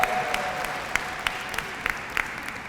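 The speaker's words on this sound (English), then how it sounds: "And give yourselves a round of applause." An audience at a Women's History Month closing ceremony claps for the honorees, a moderate steady patter with a few sharper individual claps standing out over a couple of seconds.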